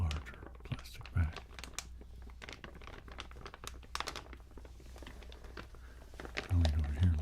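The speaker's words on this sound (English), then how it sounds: "low-pitched crinkle sounds out of the larger plastic bag." Larger plastic bag crinkled in low-pitched bursts close to the microphone, irregular crackles and rustles throughout, with a soft voice talking faintly beneath and a few louder handling thumps near the start and end.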